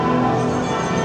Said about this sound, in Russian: Послушайте, какой колокольный звон.